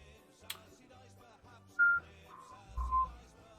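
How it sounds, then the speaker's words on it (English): A person whistles a few short, clear tones, soft and close, over a quiet background with light clicks and low rumbles. "Sorry, don't mean to whistle, but it's what I do."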